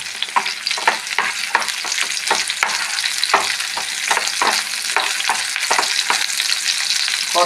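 Chilli and garlic for ulli mulaku chammanthi fry loudly in oil, a close, constant sizzle broken by frequent rhythmic scrapes and taps of stirring, with no voices.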